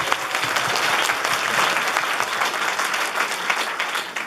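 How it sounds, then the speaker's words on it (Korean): A school audience at a student talk in Incheon breaks into sustained applause, a dense, lively patter of many hands that holds strong and tapers slightly near the end. "박수 한번 주세요"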